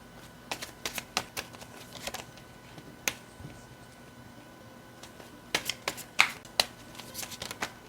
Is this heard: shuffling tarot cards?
yes